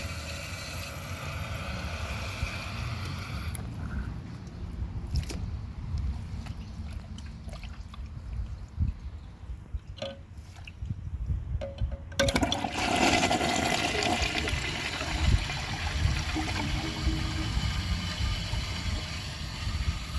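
A Vortens Vienna toilet refills with a quiet trickle, then flushes loudly in a rushing swirl of water that carries on for several seconds.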